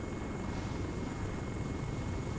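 A helicopter flies in Arma 3 with the RHS mod, making a steady, dense rotor and engine drone that holds at an even loudness throughout, with no voices over it.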